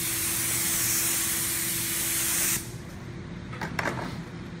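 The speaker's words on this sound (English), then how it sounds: "we're gonna spray our famous activator on Lilies" Activator spray is aimed onto hydro dipping film floating on water, a loud, steady hiss for about two and a half seconds that then cuts off, leaving quieter room noise and a couple of small knocks.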